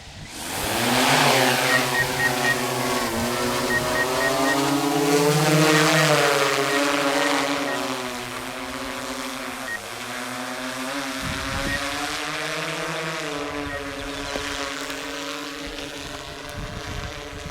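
A drone used for thermal surveys of a deer herd flies itself to its starting point, a steady loud whining propeller drone with harmonic tones that rise and fall slightly, continuous and close, with no voices.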